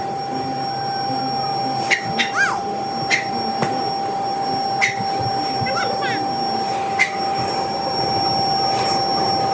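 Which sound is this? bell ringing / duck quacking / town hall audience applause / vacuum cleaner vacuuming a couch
vacuum cleaner vacuuming a couch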